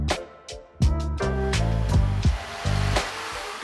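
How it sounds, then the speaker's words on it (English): A jigsaw cuts a wooden subfloor panel during a small off-road camper van conversion, its motor buzzing loudly in several short bursts that start and stop in quick succession. "A quick cut with the jigsaw and it was a perfect fit."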